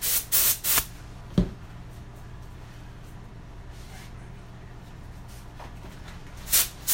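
A can of compressed air, the kind used for cleaning computers, gives a few short, loud hissing bursts at the start and another at the end, with quiet room noise between them.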